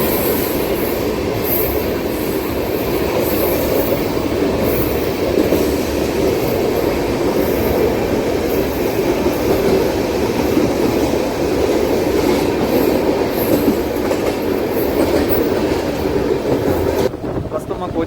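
Chennai–Nizamuddin Duronto superfast express running near Ongole, heard from inside a coach: a loud, steady rumble of wheels on rails with faint clickety-clack and occasional squeal, continuous throughout.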